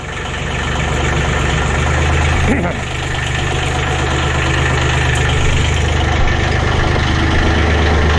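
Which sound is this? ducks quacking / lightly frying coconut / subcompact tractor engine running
subcompact tractor engine running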